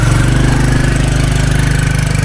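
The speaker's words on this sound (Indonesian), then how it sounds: "ini munggah motornya tak kuat, Nur." A motorcycle engine labouring up a steep road toward Silancur Highland, a loud, steady, low throbbing drone with a rapid pulsing beat that fills the clip close to the mic.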